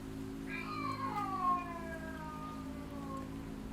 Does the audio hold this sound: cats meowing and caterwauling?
yes